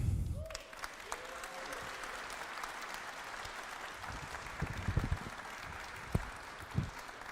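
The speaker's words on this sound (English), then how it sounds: "großer Applaus jetzt erstmal für die 6 Gewinner" An audience applauds six winners at a central awards event, with sustained clapping from a crowd in a hall that carries on steadily and fairly distant, a few sharper claps standing out near the end.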